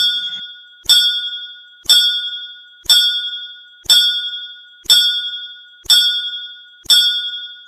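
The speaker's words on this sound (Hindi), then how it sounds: "अंदर लगातार घंटियां बज रही थी" Temple bells ring in a steady series inside a village temple, seven clear, bright strikes about a second apart, each leaving a shimmering metallic ring that fades before the next. No voices are heard.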